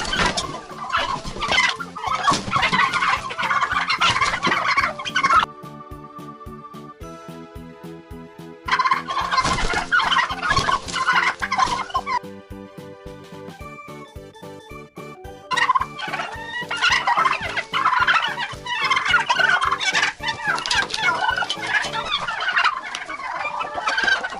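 Turkeys gobble repeatedly in a farmyard on a frosty night, loud, overlapping bursts from several birds close by, broken by short quieter pauses with softer calls.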